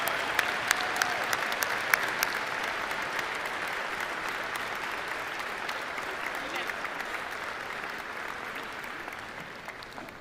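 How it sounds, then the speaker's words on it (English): Sustained applause from a large crowd at a high school graduation ceremony at Hofstra University, dense steady clapping that holds evenly throughout with no speech over it. "Please give Dr. Thomas Fasano a round of applause for his dedication to education"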